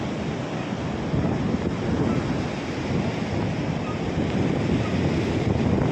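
Stormy sea surf driven by a monsoon typhoon on a flooded coast, the water churned brown; a steady, loud roar of breaking waves mixed with heavy wind buffeting the microphone, continuous throughout with no voices.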